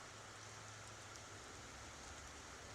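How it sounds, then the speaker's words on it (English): Steady, faint rain hiss from a video game, an even wash of falling rain with no distinct drops standing out and no one talking. "Sounds like it's raining in the game."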